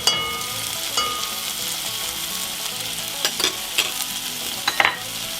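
Zucchini frying in oil and butter in a pan gives a continuous loud sizzle, with occasional scrapes and taps of a utensil as it is stirred, no voices.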